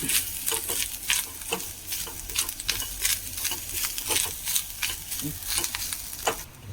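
Grated coconut roasting in a pan with cumin, dried chillies and curry leaves crackles steadily while a spoon stirs it, with the scraping strokes repeating in a quick, uneven rhythm close by.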